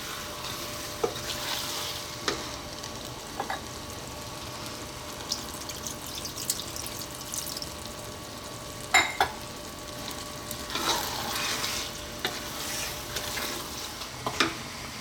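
Doro wat, an Ethiopian chicken stew, stirred in a pot over low heat, with a soft continuous sizzle and bubbling broken by occasional scraping and clinking of the spoon, no voices.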